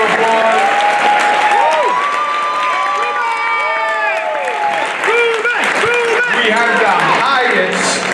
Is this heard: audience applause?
yes